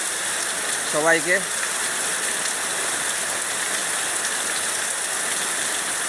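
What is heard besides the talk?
rain falling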